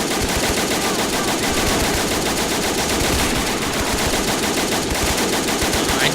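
Sustained machine gun fire in the Men of War Assault Squad 2 battle game, a dense, continuous rattle of rapid shots filling the whole stretch without pause.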